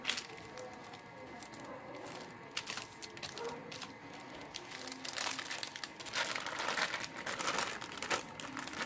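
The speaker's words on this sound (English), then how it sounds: "it's so easy to scrub them off from the baking paper" Homemade chocolate chips are scraped and peeled off baking paper, giving steady close crinkling and rustling paper with small crackles that grow busier and louder toward the end.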